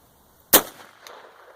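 A single light-recoil gallery round fired from a Mosin rifle gives one loud, abrupt bang that trails off into a brief echo.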